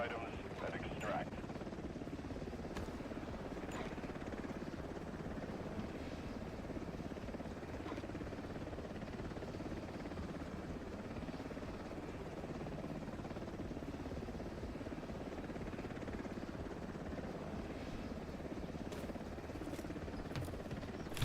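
Helicopter landing in the Delta Force video game, a steady loud rotor drone with low hum filling the whole stretch, running under game sounds and a voice talking.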